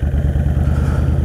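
A motorcycle engine drones steadily while riding, a loud, close, pulsing low rumble with a fast regular beat and no talk.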